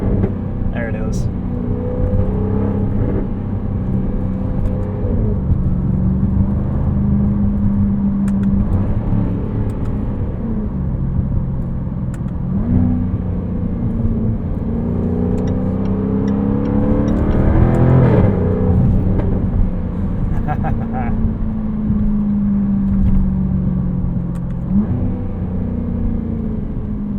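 A 2024 Jaguar F-Type R75 P575 convertible engine and exhaust during night driving, a steady near rumble that swells and eases as revs climb around 3,800 RPM, with a voice talking over it.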